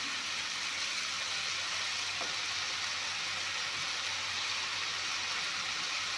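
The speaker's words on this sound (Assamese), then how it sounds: "এয়া চাওক, গৰম পানী অলপমান দি দিছোঁ।" Hot water poured into green pea and chickpea dal curry frying in a pan with amita (raw papaya), giving a steady broad hiss and sizzle that holds evenly throughout without pause.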